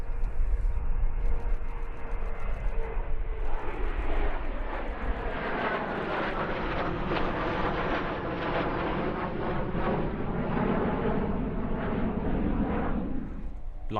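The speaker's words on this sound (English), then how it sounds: "The MiG-29 was the Soviet Union's answer to the F-16." A MiG-29 fighter jet at an air show, its engines building from a rumble into a loud, sustained roar with a rising whine as it passes close by, then trailing off.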